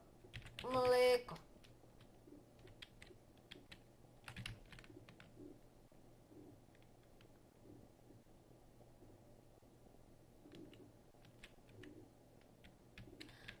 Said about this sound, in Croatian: Čekaj, da ukucam